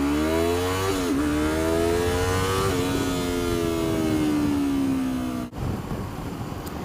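A motorcycle engine revs up and holds a high, rising whine, then briefly cuts off before droning on again, close and loud.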